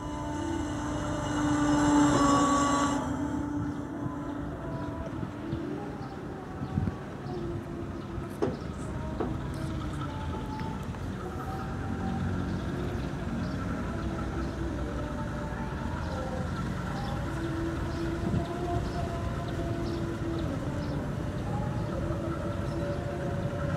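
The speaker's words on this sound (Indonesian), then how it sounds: "ini mulai masuk, mulai berangkat lagi ke jalur" A vintage locomotive shunting the Sawunggalih passenger train produces a steady low rumble as it departs, with occasional clanks. A loud whistle or horn sounds briefly near the start.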